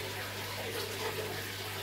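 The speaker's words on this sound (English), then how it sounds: "They're doing water changes" Water runs steadily during a water change on a home aquarium holding a stingray and peacock bass, a continuous close rushing hiss with no break for the whole moment.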